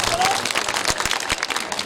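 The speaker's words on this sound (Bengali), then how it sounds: "জোরে একটি হাততালি।" Picnic audience applauds, a short burst of dense clapping from a crowd with a voice speaking over it.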